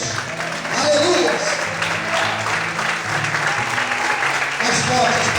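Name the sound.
congregation applauding in church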